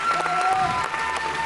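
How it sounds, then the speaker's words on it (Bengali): A studio crowd applauds at a televised dance competition stage show, steady, full clapping with a few cheers mixed in, filling the hall for the whole moment. "একটা জোরে হাততালি দিন ওর জন্য।"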